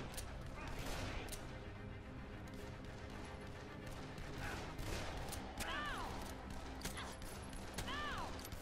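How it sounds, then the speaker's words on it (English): Heavy gunfire in Dead Island rattles in dense volleys across the whole stretch, crackling shots layered with whistling ricochet-like sweeps, fairly distant and continuous with voices talking underneath. "I'm taking heavy fire"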